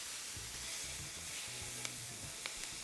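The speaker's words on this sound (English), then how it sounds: "Now I'm going in with the garlic. Allow that to cook for about 30 seconds." Garlic sautéing in a pan for steak dirty rice gives a steady, quiet sizzle with a few faint taps and scrapes, heard alone without talk.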